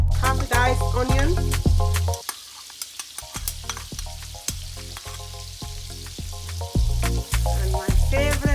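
Garlic cloves and diced onion sizzle and fry in a hot pan with loud, close stirring scrapes, regular clanks of a utensil against the pan, and a brief quieter stretch partway through.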